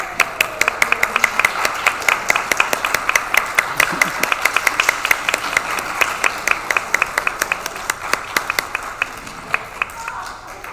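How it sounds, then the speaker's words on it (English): An audience claps in welcome for Joan McPherson at a gathering, sparse individual claps forming a steady rhythmic round of applause, fairly close, with a little background murmur. "Let's give her a round of applause"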